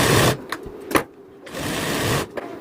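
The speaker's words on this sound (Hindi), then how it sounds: "टक्स की सिलाई लगा लेती हूँ" A sewing machine stitches tucks on a blouse in quick, loud, buzzing runs, broken by a brief stop and a longer pause before it speeds up again.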